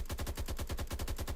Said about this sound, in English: Let's check with the automatic fire.